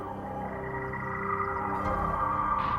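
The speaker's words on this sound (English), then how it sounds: "The shrieks of ancient creatures fill the air." Shrieks and croaking calls of ancient creatures at a primitive lake 130 million years ago in China, layered as a dense, continuous wildlife chorus at moderate level, swelling slightly toward the end.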